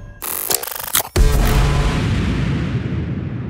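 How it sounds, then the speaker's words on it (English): A big space battle explosion sound effect erupts after a burst of rapid laser-like zaps, booming loudly and then rumbling on as a long, slowly fading roar. "Finally, everything converges in one big moment, the explosion."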